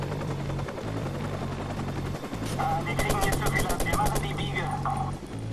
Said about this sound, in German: Und jetzt soll ich auf den Heli ballern.